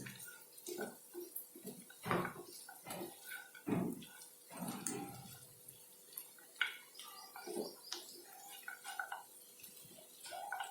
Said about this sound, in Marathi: आता ड्रायफ्रूट्स याच्यामध्ये व्यवस्थित मिक्स करून घ्या